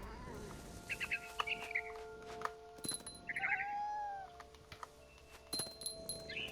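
A cat meows a few times in the video game What Remains of Edith Finch, short mewing calls over soft background clicks and low ambient tones.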